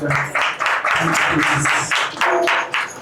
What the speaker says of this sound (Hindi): तो मैं चाहता हूँ ऐसे खुदा के लिए जोरदार तालियां बजाएं।